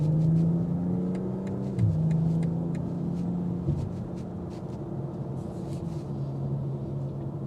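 A 2026 BMW M440i coupe in sport mode pulls away under acceleration, its engine and exhaust droning and rising in pitch with a shift partway through, heard from inside the cabin over steady road rumble, without talking.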